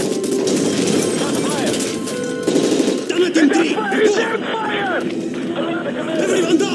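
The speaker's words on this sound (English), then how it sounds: "That's gunfire!" Gunfire in the video game Call of Duty Modern Warfare 3 crackles in bursts aboard a hijacked plane, partly buried under loud, urgent shouting voices.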